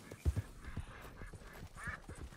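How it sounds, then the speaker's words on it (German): Ducks quack faintly in Red Dead Redemption 2 online, with a few soft, scattered calls set low against quiet in-game ambience. "Das sind alles Enten."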